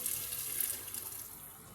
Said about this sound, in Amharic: አሁን እዚህ ጋር ትንሽ ውሃ እናደርጋለን።